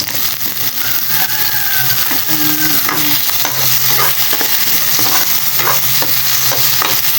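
Tomatoes sautéing in a pan for sinigang, a steady close sizzle and frying hiss with intermittent stirring scrapes throughout, no talk.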